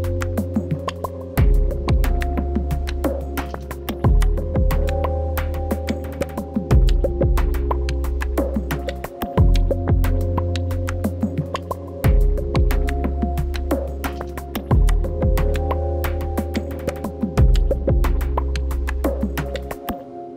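A looping programmed beat in Logic Pro X with a deep repeating programmed bass line and a mellow, dusty lo-fi piano pattern, steady and continuous throughout with no talking.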